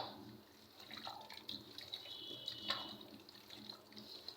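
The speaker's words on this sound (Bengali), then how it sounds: "এই দেখো এখন আমি পরিমাণ মতো পানিটা দিয়ে দিলাম।" Water poured into a cooking pot of spiced meat gives a faint, steady trickle and splash that runs for several seconds, low in level and without any talk.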